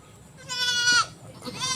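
A goat kept as a backyard animal bleats twice nearby, one long wavering cry followed by a shorter second call, loud over a quiet outdoor background.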